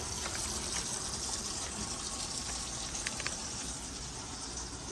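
A kitchen faucet runs in a steady, loud gush of water, continuous and close for the whole stretch.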